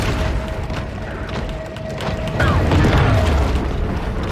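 A deep torpedo blast booms in the Hungry Shark video game, a loud low rumbling burst about halfway through that swells and lingers over steady underwater game noise and a faint held tone.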